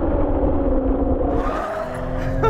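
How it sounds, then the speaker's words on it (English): A 2020 Toyota Supra with big Brembo brakes stopping hard, engine and tyre noise winding down, with a brief squeal at the end. "So they're big Brembo brakes, and they do a great job of hauling this car up"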